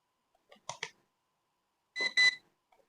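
An electrical buzzer sounds during a continuity test on a simple protection device for a solar charge controller, battery and inverter: two short pairs of electronic beeps, separated by silence, close and clear.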